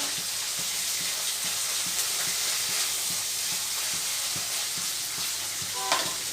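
Food sizzling in hot oil in a home kitchen, a steady bright hiss and crackle with faint ticking stirs underneath, constant and close, briefly sputtering louder near the end.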